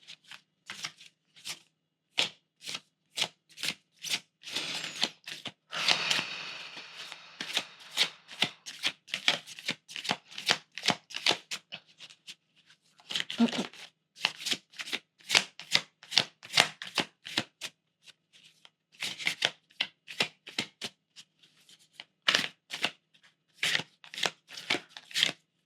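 Tarot cards shuffled by hand in a long run of quick crisp riffles and slaps, steady bursts with brief pauses, close and clear with no talking.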